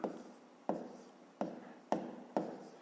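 A pen writes on paper in five short, scratchy strokes spaced at roughly even intervals. The strokes are close and quiet, with no talk over them.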